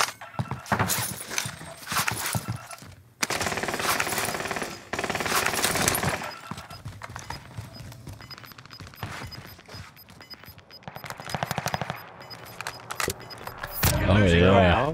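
Bursts of automatic gunfire and single shots from Call of Duty Warzone on Rebirth Island, an AMAX rifle among them, crack in loud clusters over dense game noise while players talk throughout.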